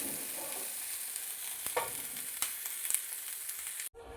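Steady crackling sizzle of a bay leaf frying in hot oil for chicken dum biryani, with a few soft stirring clicks, close and continuous until it cuts off near the end.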